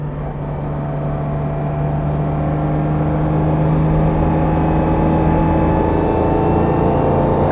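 A 1954 Mercedes 300 SL Gullwing engine hums at a steady low pitch, loud and close, rising gradually in strength as the car pulls uphill, with no voices over it.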